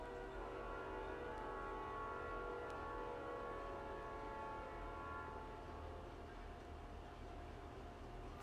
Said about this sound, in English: I can hear some people in my neighborhood. Can you hear the train horns?